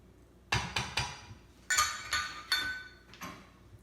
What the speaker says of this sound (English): And now we want to whisk that into our warm cream until it's completely dissolved